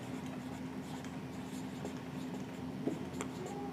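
Pen writing on paper while working an accounting problem, a faint continuous scratching that stays steady and close under a low room hum, with no talking.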